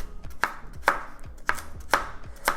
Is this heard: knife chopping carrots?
yes